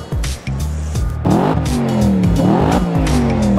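Audi RS5 V8 coupe accelerating hard, loud rising engine roar with gear changes and climbing revs, close and continuous.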